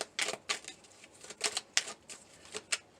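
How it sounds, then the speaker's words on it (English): Message cards pulled one by one from a deck, giving a quick run of crisp, papery flicks and snaps close at hand, irregular but steady over a few seconds, with no voices. "we're going to pull a few cards, a few message cards here"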